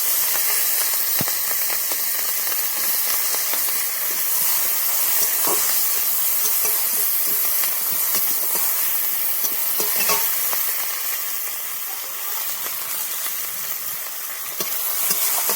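Chopped onion and green chili fry in hot oil in a kadai, giving a loud, steady close sizzle with frequent scraping stirs and no talking.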